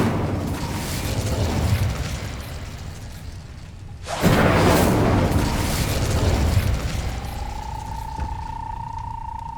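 A fire spell cast in Hogwarts Legacy bursts out with a sudden loud whooshing blast partway through, rumbling on for a few seconds over earlier ambient noise, then giving way to a steady rising tone.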